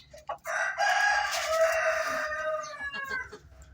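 Close, sustained vocalizing from older hens in a coop, with a long crowing-like call, busy clucking and squawks filling the whole stretch, no talking.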